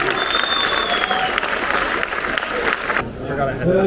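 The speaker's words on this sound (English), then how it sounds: "round of applause for the rest of the guys in blue" Crowd applause at the DRIVEN 2023 car show's eBay Motors booth fills the first three seconds, a dense steady clatter of clapping hands, then cuts off abruptly into a quieter background.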